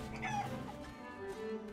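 Chickens cluck and squawk in the pirate video game Sea of Thieves, producing a short burst of nasal, wavering calls over steady in-game background ambience.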